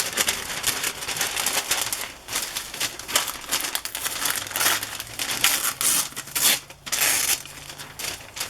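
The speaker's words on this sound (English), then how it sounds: "This is tissue paper with a gold design on it." Tissue paper with a gold design gets crushed and crinkled by hand, loud close crackling that keeps going in irregular bursts with brief dips and no speech.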